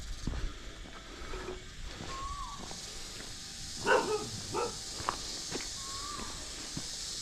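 A dog barks a few times at moderate distance along a residential road on a mountain hike on Koh Samui, with short separate bursts over faint outdoor ambience and footsteps.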